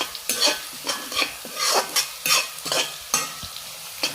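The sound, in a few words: stirring onions and curry leaves frying in a pan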